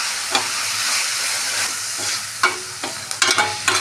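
Loud, continuous sizzling of fenugreek leaves and tomatoes frying in a pan, broken by several scraping, stirring clatters toward the end.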